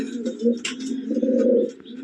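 KTM Teddy pigeons in a loft, one of them slightly sick and with young, give soft, low cooing in short throaty bursts, close and alone.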